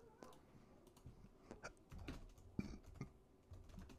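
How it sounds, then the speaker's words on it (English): Quiet typing on a computer keyboard while entering a query into a calculator: irregular clusters of soft, close key clicks with short pauses between bursts. "Typing EOS into a calculator doesn't give you very good results"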